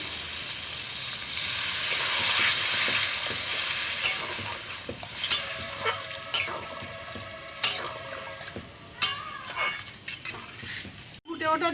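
Water poured into a pan of sizzling spices and vegetable stems, a loud hissing burst that settles into steady sizzling, followed by repeated spoon scrapes and clinks against the pan, close and without talking.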